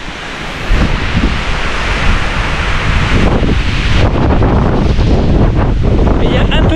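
Strong wind roaring and buffeting loudly on a mountain at about 1,229 metres in the Vosges, with heavy gusty rumble and blustery noise throughout.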